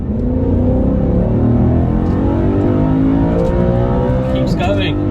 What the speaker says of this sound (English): I love the way the engine builds up.